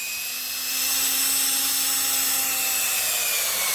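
An auger bit bores into frozen soil for a soil test, giving a steady, close whirring drone with a faint rising tone that holds for a few seconds, with no talk.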